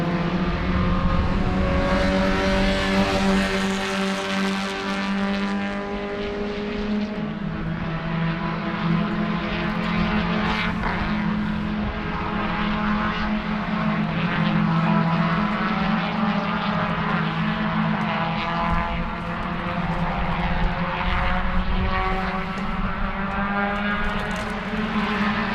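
Race cars at Sebring raceway during an SCCA club race, engines droning steadily and loudly for the whole stretch with rising and falling pitch as cars accelerate and pass, no talk heard.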